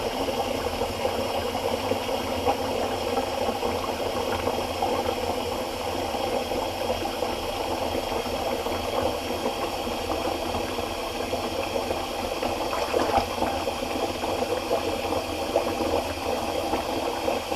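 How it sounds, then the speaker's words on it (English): Tap water runs steadily into a bathroom sink during a wet shave, a constant broadband rushing and gurgling hiss that holds at an even level throughout with no voices over it. "Sorry about the water running, I'm just refilling my sink."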